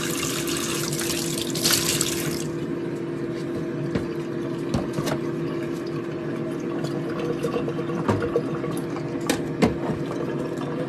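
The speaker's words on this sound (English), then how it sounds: "let me run cold water to see if I can clear this place a little bit" Cold water runs steadily from a kitchen tap into a sink while abacha, a Nigerian African salad, is being prepared, a continuous close hiss and splash with a few small clinks and knocks.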